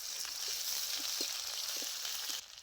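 Onion and garlic paste fry in a pan with a constant soft hiss and faint scattered crackles, heard alone and fairly quiet before the sizzle drops off at the end.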